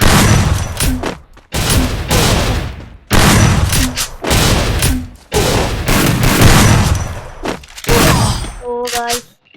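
Gunfire in the mobile battle-royale game Free Fire, loud repeated bursts of rapid shots in several volleys separated by short gaps, ending with a few clipped electronic tones.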